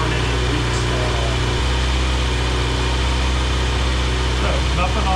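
A 2023 Kawasaki Z900 motorcycle engine idles steadily during a warm-up run-up, a continuous low rumble with a lighter mechanical whine above it, holding constant and close throughout without any talk.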